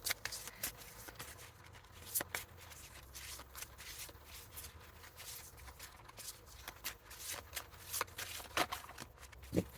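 Tarot cards are shuffled close by in quick, uneven bursts of soft riffling and flicking, fairly quiet, with no voices.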